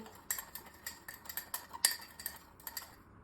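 Quick, light metallic clinks of a teaspoon scraping and tapping inside a bowl while mixing salt and sugar, irregular and close, fairly quiet.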